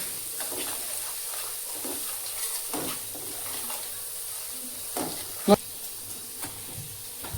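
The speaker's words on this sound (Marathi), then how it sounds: "आता चांगले भाजून घ्यायचं आहे पाच मिनटं" Homemade masala paste roasts in a pan for a black masala vegetable dish, giving a faint, steady sizzle with soft stirring scrapes and one brief louder knock.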